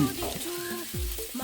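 Masala paste fries in a pan for beef masala, a soft continuous sizzle with a few muffled stirring scrapes, heard up close.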